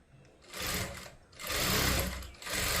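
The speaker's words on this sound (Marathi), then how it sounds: "1 इंच आतल्या साईडला मुंड्याच्या साईडला शिलाई लावून घ्यायची आहे" Sewing machine stitching a blouse seam, its motor whirring in three bursts that rise and fall, with short pauses between the runs of stitching and no talking.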